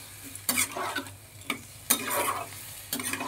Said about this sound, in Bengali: এবার ভালো করে কষাবো মশলার সাথে।